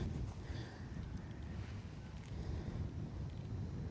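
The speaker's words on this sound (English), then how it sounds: "there's a little bit of wind in my face" Wind on a golf course buffets the microphone as a steady, low rumbling roar throughout, with no talking.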